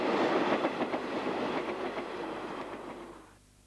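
A train runs on the Cape Main Line near the Hex River Mountains in midwinter, rumbling with a steady rhythmic clatter of wheels close by before the sound tapers away at the end.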